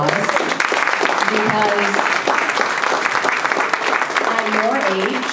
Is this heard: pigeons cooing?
no